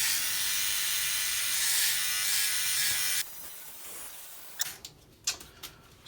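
A Philips OneBlade electric shaver buzzes steadily and fairly close for about three seconds, then cuts out, leaving a few faint clicks and small knocks.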